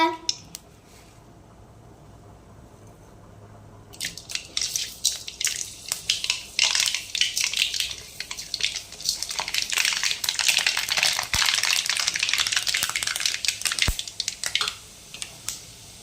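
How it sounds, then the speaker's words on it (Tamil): Mustard seeds dropped into hot oil in a kadai burst into loud, dense spluttering and crackling after a few quiet seconds, popping steadily for around ten seconds before easing off. "இப்போ எண்ணெய் நல்லா காஞ்சிடுச்சு, கடுகு கொஞ்சம் போட்டுக்கலாம் வாங்க"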